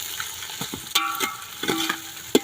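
A spice paste of dried coconut, onion, garlic and ginger sizzles in a pan over a wood-fired chulha, with scattered clinks of stirring over a steady, moderate frying hiss.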